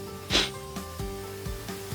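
A single quick hiss of sunflower oil sprayed onto homemade scotch eggs for a Ninja Combi cooker, a short close burst followed by low hum and a few soft knocks.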